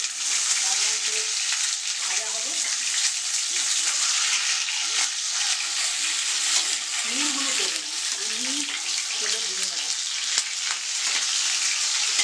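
An egg fries in heated pure mustard oil, giving a steady close sizzle and crackle that runs throughout, with faint voices murmuring underneath.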